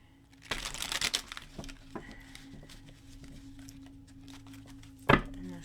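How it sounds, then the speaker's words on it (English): A deck of tarot cards being shuffled up close, a quick riffling burst followed by softer handling and one sharp snap near the end. "I'm gonna shuffle."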